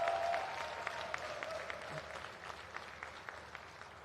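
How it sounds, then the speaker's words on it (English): Faint, distant clapping from an audience at a healthcare centre commissioning ceremony in Abuja, scattered and fading gradually over a few seconds with a brief voice near the start. "the clapping shows it"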